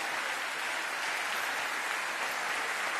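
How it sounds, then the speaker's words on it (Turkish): Steady, dense applause from a crowd bids farewell to the artist Özkan Uğur at his funeral, continuous and fairly distant with no voices over it. "Bu büyük sanatçıyı layık olduğu gibi sahneden alkışlarla ayakta uğurlayalım lütfen."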